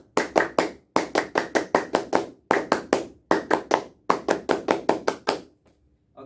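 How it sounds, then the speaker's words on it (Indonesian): Rhythmic group clapping of a Pramuka scout clap, performed in five quick bursts of sharp, close hand claps with short pauses between, no talking over it. "2 kali tepuk Pramuka."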